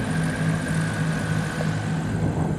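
A Diamond training plane from a flight school passes overhead at an airfield, a steady propeller-engine drone with a low throb, moderately loud and continuous throughout.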